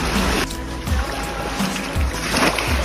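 Sea waves washing onto a sandy beach where clams are dug, a continuous close hiss of surf with low surging swells rising and falling every second or so.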